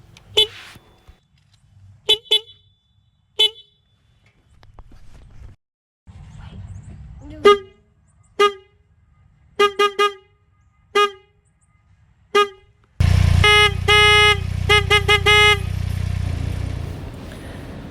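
A Can-Am Ryker three-wheeler's old horn gives short toots one after another, some in quick pairs, then the louder, brighter new replacement horn blares in longer blasts over an engine rumble.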